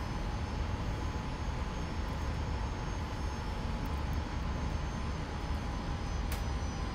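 North American F-86 Sabre jet engine in the DCS flight simulator, a steady loud broadband roar with a throttle increase, sustained and close throughout with no talk.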